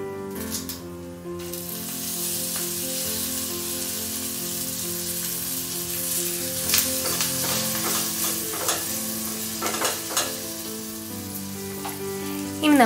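Curry leaves sizzle in hot oil, tempering for a buttermilk curry: a loud, steady frying hiss that runs throughout, with crackling pops and a few stirring scrapes near the end.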